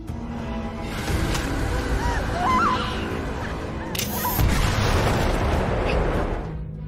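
A deep booming landmine blast in the TV series The 100 erupts partway through, followed by a rumbling roar, with a low, tense background before it.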